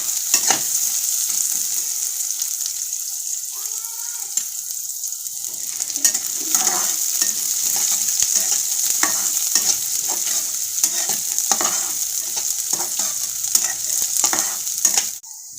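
Finely chopped onion sautéing in a hot pan, with a loud continuous sizzle and repeated scraping stirs of a spatula close by, no talking.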